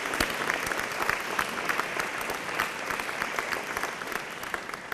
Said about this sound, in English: Let's give a round of applause for the ladies for putting the food that we're ready to eat.